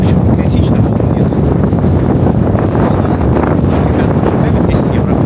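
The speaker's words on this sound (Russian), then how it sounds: "В принципе, ветер есть порывами, но горячий." Steady, loud, hot gusty wind on a Crete beach roaring and buffeting a microphone, with rushing gusts throughout and no clear pauses.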